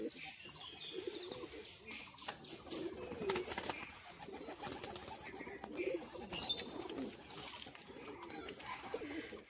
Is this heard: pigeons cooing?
yes